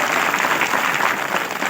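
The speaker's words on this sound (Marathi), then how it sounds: "सर्वांनी एकदा जोरात टाळ्या वाजवून त्यांचं स्वागत करावं" A village crowd claps loudly and steadily to welcome guests at the close of a sermon program during a hunger strike gathering, dense continuous applause throughout.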